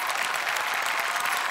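A studio audience on the Marathi comedy show Chala Hawa Yeu Dya breaks into dense, even applause. The many hands clap steadily and loudly throughout the brief moment, with no talk.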